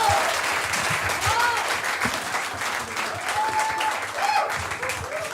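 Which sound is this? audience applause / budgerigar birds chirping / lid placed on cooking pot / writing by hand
audience applause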